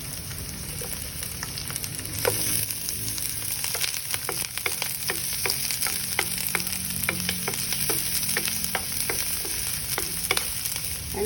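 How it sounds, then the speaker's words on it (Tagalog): Garlic and onions sauteing in a pan for adobong shrimp with coconut milk, a steady close sizzle with frequent sharp crackles and stirring scrapes, no voices. "we're gonna saute the garlic first. Okay, and then the onions."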